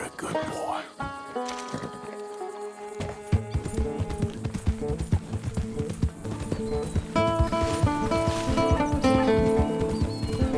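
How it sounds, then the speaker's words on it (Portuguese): Horse hooves gallop through Red Dead Redemption 2, a steady clip-clop running under a busy, layered game music score for the whole stretch. "eu selo meu cavalo Caneco e partimos daqui em busca da próxima jornada"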